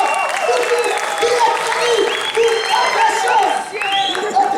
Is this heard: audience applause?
yes